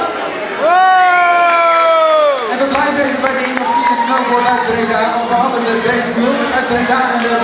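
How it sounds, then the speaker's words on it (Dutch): A lively crowd at a 2009 youth synchro skiing challenge in Breda cheers, whoops and claps loudly after a girls' team performs, opening with a long sliding high call before the noisy cheering carries on. "Nogmaals een applaus!"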